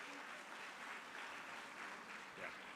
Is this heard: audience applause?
yes